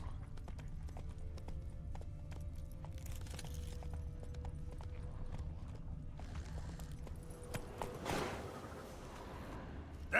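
Roach, the horse in The Witcher 3, trots with a steady rhythmic clip-clop of hooves, close and clear over a low ambient bed, with a brief rustling swell near the end.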